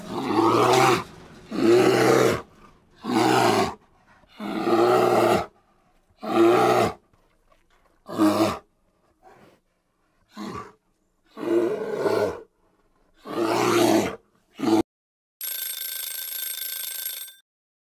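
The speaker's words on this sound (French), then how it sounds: "C'était l'ours et on dit qu'il grogne" A deep bear growling in a series of long, rough bursts separated by short pauses, loud and close, followed by a ringing tone at the end.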